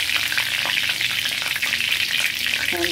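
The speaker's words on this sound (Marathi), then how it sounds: "आता तेल तापलेलं आहे. मी थोडासा जिरा टाकणार" Cumin seeds and curry leaves dropped into hot oil for egg bhurji, a loud, dense, continuous crackling sizzle close up with no voices.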